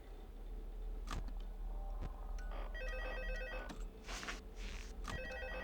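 Phone rings inside Five Nights at Freddy's 2, a repeating electronic trill that sounds in short bursts over a steady low game hum, with faint clicks and bumps between rings.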